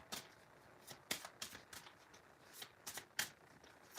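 A tarot card deck being shuffled by hand, crisp irregular riffles and slaps of cards close up, quiet and alone with no talk.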